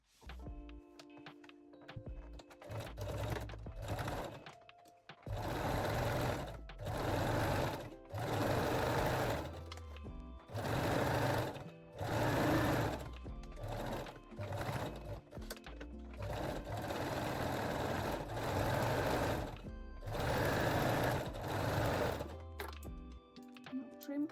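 A sewing machine stitches a seam on lingerie fabric, running in several long loud bursts separated by brief pauses, close and steady.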